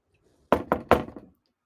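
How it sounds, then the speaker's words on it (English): Knuckles rap on wood three times in quick, close, loud succession, with a softer trailing knock or two and no talk. "Hear that knock?"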